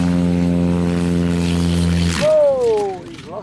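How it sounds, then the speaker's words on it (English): A propeller plane takes off from a grass field with its landing gear retracting: a loud, steady droning buzz that breaks off abruptly near the end, followed by a gliding whine that bends downward. "This plane's landing gear retracted while taking off from a grass field"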